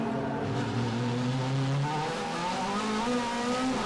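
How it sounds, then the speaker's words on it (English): Onboard a DTM touring race car at the Norisring in 2014, the engine climbs steadily in pitch as it accelerates out of a turn, a loud continuous roar with a faint tire squeal near the start. "Tombe accelerating out of that turn"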